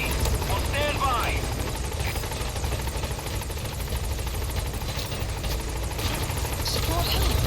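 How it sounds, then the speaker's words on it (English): Support helicopter arriving in Metal Gear Solid V: The Phantom Pain, a loud, steady low rotor drone filling the whole stretch, with occasional chirps and radio-style voices over it. "Support helicopter has arrived."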